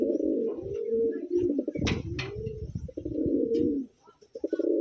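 A blue bar pigeon coos in a low, rolling, continuous burble, loud and close, with a brief sharper noise midway and a short lull near the end.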